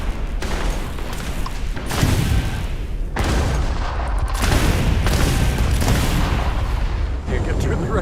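Sustained gunfire in a Starfield space combat encounter, a dense, loud barrage of booming bursts with sharp breaks between volleys, voices talking over it.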